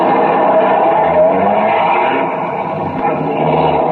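Police cars pulling out of a garage as an old-time Dragnet radio drama effect, a steady loud engine rumble with a muffled, band-limited tone throughout and no talking.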